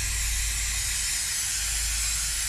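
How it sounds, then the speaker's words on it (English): Brake cleaner sprayed as a steady aerosol hiss while cleaning out a diesel fuel filter from a Ford Powerstroke fuel system, a continuous close hiss with no talk and a faint low rumble underneath. "Clean it out. Brake cleaner."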